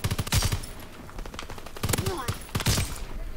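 Sharp bursts of automatic gunfire crack in a Call of Duty WW2 multiplayer match, coming in several close, loud volleys with short gaps, and a brief voice is heard between them.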